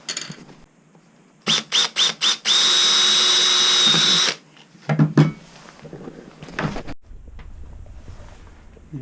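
Four quick bursts of a power drill, then a sustained high whine as it drills for about two seconds into a kayak to fit a transducer, followed by clunks and handling noises.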